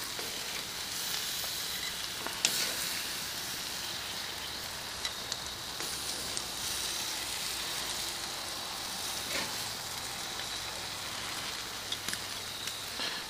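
Marinated venison chops cook on a grill with a steady, even sizzle like light hiss or rain, close but soft, and a few faint clicks and pops scattered through it, with no talk.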